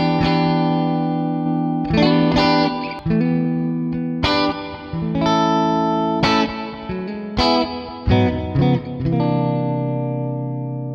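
Electric guitar played through a Mesa Boogie class A amp simulation in Amplitube 5, using a clean tone with reverb: a series of ringing chords and single notes, each struck and left to sustain and decay, fairly loud and alone.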